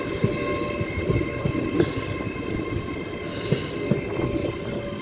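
A train at Peterborough station, an amended service that was meant to run to Edinburgh, rumbles steadily with rhythmic rail clatter and occasional louder thumps, heard up close with no talking.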